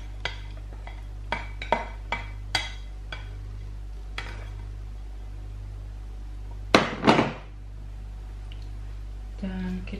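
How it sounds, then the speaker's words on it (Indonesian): Chicken pasta stirred in a pan with a utensil, giving a few sharp metallic clinks and taps against the pan, then a louder scraping burst and a final clatter over a steady low hum. "Dan kita aduk sedikit."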